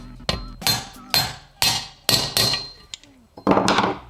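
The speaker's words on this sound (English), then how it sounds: "To install the new race, I'm just gonna use one of these little driver tools, set the race in there, just like that. And then tap it in with the hammer." Hammer blows tap a new bearing race into a Toyota W56 manual transmission through a small driver tool: about eight sharp metallic strikes at a steady pace, close and loud, with no talk.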